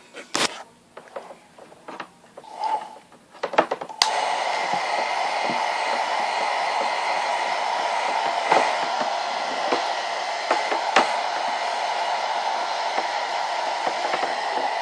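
A handheld hair dryer switches on after a few seconds of small handling noises, then runs steadily and loudly with a constant airy whir, nearby and uninterrupted.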